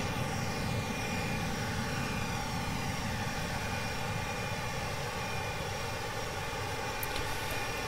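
Antonov An-225 Mriya engines in a flight simulator game (P3Dv4) after takeoff, with flaps and gear retracted: a steady, loud, broadband jet roar that drones evenly throughout, with no talking.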